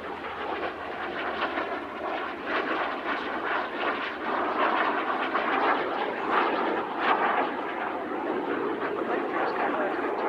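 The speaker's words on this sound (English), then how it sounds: "the Jet Provost" A Jet Provost jet trainer flies at the RAF Cosford Air Show 2024, its engine a steady, broad roar that holds throughout and swells slightly midway, heard from a distance in the open air.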